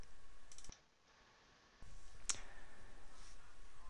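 A couple of sharp, faint computer mouse clicks on a Windows 7 desktop, heard close and isolated against a low background hiss.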